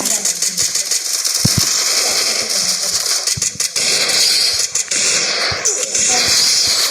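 AWM sniper rifle shots fire in a shooting video game as a scatter of sharp, sudden cracks over constant game noise, with a person talking throughout.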